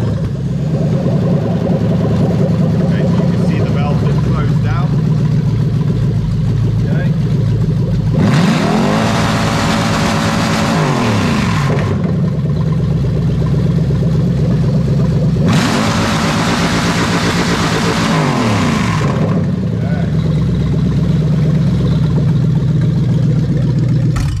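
A Toyota 3UZ-FE VVT-i V8 engine idles loudly, then revs up twice in long rising and falling surges before settling back to a steady idle.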